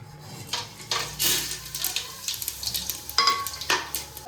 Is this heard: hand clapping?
no